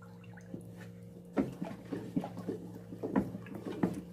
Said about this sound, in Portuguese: vamos dar uma mexida aqui para dissolver o sal na água